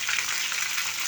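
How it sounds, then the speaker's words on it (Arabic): Chicken and onions sauté in a hot pan, giving a steady, close, dense sizzle that runs unbroken and fairly loud with no talk. "هنشوح الفراخ ونحط معاها ايه شوية بصل كده"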